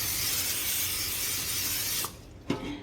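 Cooking spray hisses steadily onto seafood egg rolls for about two seconds, then stops abruptly, followed by a soft clunk and a short quieter hiss.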